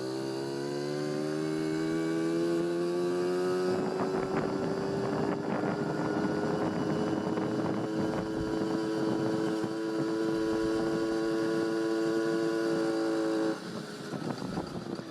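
A 1981 Honda Express NC50 moped fitted with a Dellorto SHA 15/15 carburettor runs steadily as it is ridden. The small engine drones close and loud without a break, its pitch shifting at about four seconds and easing off near the end.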